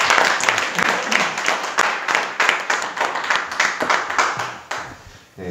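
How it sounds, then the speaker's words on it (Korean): Audience applause greets a National Assembly member being introduced at a Korean political party's joining ceremony, a dense burst of many hands clapping close and loud for several seconds before tapering off. "큰 박수로 듣도록 하겠습니다."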